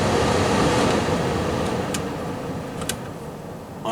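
Heater blower fan of a 2006 Pontiac Torrent runs as a steady, loud broadband whoosh of rushing air inside the cabin, with a few faint clicks near the end.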